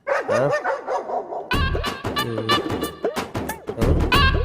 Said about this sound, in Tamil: இவையே நாய் மாதிரி கத்துறாங்க